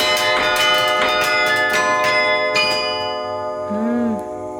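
Carillon bells strike several notes in quick succession, forming a chord whose bright, metallic tones ring and overlap, then a lower bell sounds and the whole decays slowly, close and resonant.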